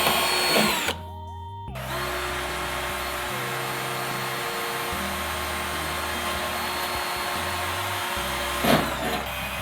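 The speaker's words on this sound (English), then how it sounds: "I'm just gonna drill a little tap hole here." A power drill bores a small tap hole during a tiny house roof build. The motor whines steadily, shifting speed in stepped pulses for several seconds after a brief start.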